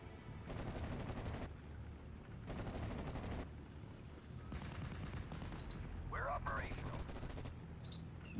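Faint World War II gunfire crackles in Steel Division: Normandy 44, with repeated bursts of shots and rattles set back at a distance, occasional sharper clicks near the end, under quiet background noise.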